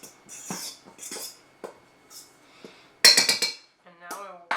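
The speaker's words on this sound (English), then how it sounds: "I'm going to start with a fork just to mix up all of the dry ingredients" Fork clinking and scraping against a bowl while mixing dry ingredients for Danish pastry dough, a run of short, light metallic taps and rasps coming in separate bursts, fairly close, with a brighter cluster of clinks near the end.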